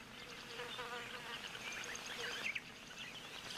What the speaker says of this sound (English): Sounds like a little fly, perhaps even a bee.